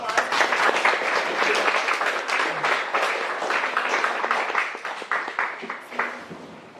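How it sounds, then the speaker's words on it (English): Applause from the audience at a Q&A session after a talk on the 2016 US presidential election, steady clapping that thins into scattered individual claps as it fades. "let's give Chris another big round of applause"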